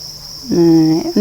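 Crickets on a cricket farm in cold winter weather produce a steady, high, continuous chirring close by, joined midway by a brief, low, voice-like hum.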